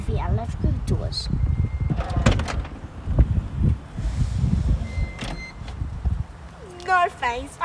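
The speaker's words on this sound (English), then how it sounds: "watch me open the electrical doors" Electric sliding doors of a Toyota Estima opening, with a motorized whir and a door latch clunk near the end; people talk over much of it.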